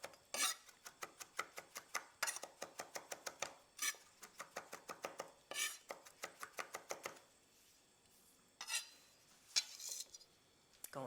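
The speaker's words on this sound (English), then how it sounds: "I'm going to add some thyme to the sauce, just chopping a little bit of it." A knife chops thyme on a cutting board in quick, crisp bursts of rapid taps, with short pauses between runs, close and clear in a quiet kitchen.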